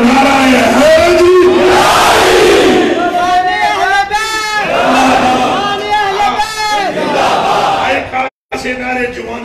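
A large crowd at a religious sermon chants slogans in loud, rhythmic unison, voices swelling and repeating in waves with a brief cut near the end.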